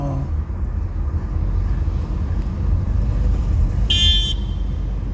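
A single short car horn honk sounds near the end, bright and fairly close, over a steady hum of road traffic heard from inside a car driving in Canada in summer.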